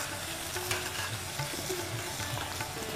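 Onion paste fries in a pan while being stirred, a close, steady sizzle broken by soft scraping strokes of a spoon, with no talking.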